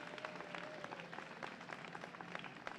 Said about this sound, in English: So if you can please give them a round of applause for their work out here.